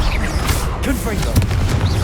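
Confringo blast spell in Hogwarts Legacy: a rapid run of booming bursts and pops with crackling energy, layered over game effects and faint voice-like sounds.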